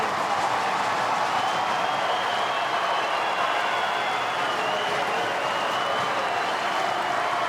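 A tennis crowd at the Australian Open 2026 first-round match between Dane Sweeny and Gael Monfils claps in dense, sustained applause that fills the arena at an even loudness, with a faint voice beneath it.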